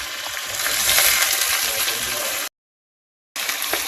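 Onions, garlic, dried chillies and curry leaves sizzle loudly in hot oil with a bright continuous crackle, broken by a brief silent gap before the frying resumes.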